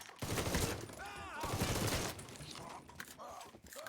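Gunfire in a Mafia 3 video game battle, loud close bursts of shots mixed with game effects, with voices heard among the shooting.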